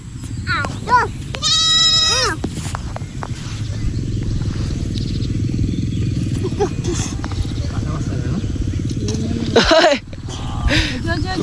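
A baby goat bleats near the start with a loud, wavering call, and another bleat comes near the end, amid continuous household noise and people talking.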